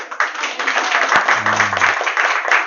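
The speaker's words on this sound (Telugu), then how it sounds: "ఇంతేనా చప్పట్లు? ఇంతేనా హరిబోలు?" Audience applause at a temple festival gathering for a religious celebration, a close, dense burst of clapping that carries through, with a brief low voice briefly under it midway.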